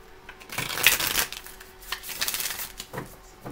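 Quick papery riffling and flicking of a tarot card deck, close by, in a few bursts with soft taps between.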